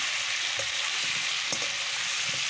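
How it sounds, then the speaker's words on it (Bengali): Potatoes and vegetables with salt, turmeric, pepper and cumin sauté in a pan, making a constant close sizzle with a few light stirring clicks. "এখন সবজি আলুটা সুন্দর করে কষিয়ে নেব"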